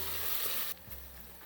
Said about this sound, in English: now just frying it for a couple of minutes till the rawness of the ginger and garlic goes